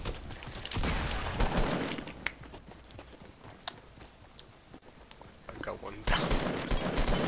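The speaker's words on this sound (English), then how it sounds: "Do you not hear gunshots?" Gunfire rattles in an online shooter video game, with short bursts and scattered single shots, some close and sharp, others fainter, while a player talks over them.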